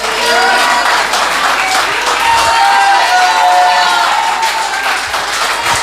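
A church congregation at a Sunday service breaks into loud, sustained applause and cheering, a dense crowd roar that fills the room with voices rising through it.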